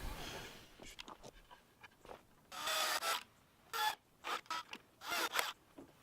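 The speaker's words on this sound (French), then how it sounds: "un petit coup de fraise juste pour le plaisir." A countersink bit drills into a wooden plank in several short, sharp whirring bursts separated by brief pauses, close and moderately loud.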